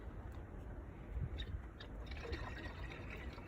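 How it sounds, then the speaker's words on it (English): Coolant trickles and gurgles as it is poured into the cooling system of a 2011–2014 Dodge Charger R/T, a faint, soft liquid sound with small splashes and drips, no talking. "I'm gonna fill this up with more coolant"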